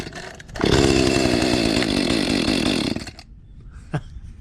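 An Echo chainsaw started with the choke pulled bursts into a loud, close, buzzing two-stroke run. It holds steady for about two and a half seconds, then cuts out, leaving a quiet tail with a single knock.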